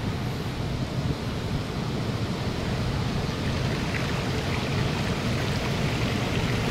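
A flooded river rushes in a steady, broad roar, with constant turbulent flow and some wind buffeting the microphone.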